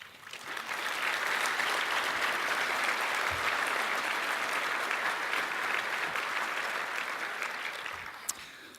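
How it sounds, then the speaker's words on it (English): Applause from the audience at a 2016 annual meeting in tribute to the organization's staff, swelling quickly into a full, even roar of many hands clapping that holds steady before tapering off near the end. "So please give a round of applause to our staff."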